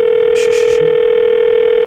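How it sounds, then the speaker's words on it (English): A steady telephone line tone holds alone for nearly two seconds and cuts off abruptly, heard over a phone call placed during a 1998 radio morning show. "So let me dial this up again."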